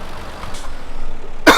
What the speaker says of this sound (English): my coughing is annoying as hell